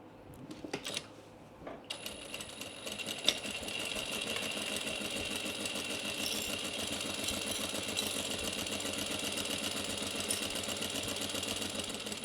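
Sewing machine running steadily down the side seam of a small pleated fabric bag, a continuous mechanical hum with fine rapid stitching rhythm, close and moderately loud after a few brief handling clicks at the start.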